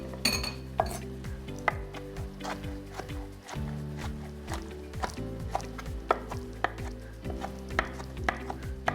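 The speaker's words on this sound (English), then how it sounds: "And then we're just gonna roughly chop the mushrooms." A knife roughly chops mushrooms on a board, with quick irregular taps and clicks repeating over a low hum, close and fairly quiet.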